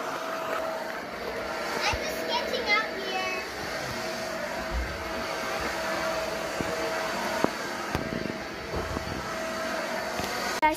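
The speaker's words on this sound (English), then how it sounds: "My nanny is vacuuming the bed." Vacuum cleaner running over a bed in a hotel room, a steady close drone that continues throughout with occasional faint knocks and a voice talking over it.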